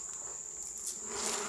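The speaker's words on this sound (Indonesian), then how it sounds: "lebah-lebah yang berterbangan ini" Honey bees fly around a beekeeper's hives during a honey harvest in a village in Jambi, forming a steady, continuous insect buzz with a high whine that swells slightly toward the end, with no talking.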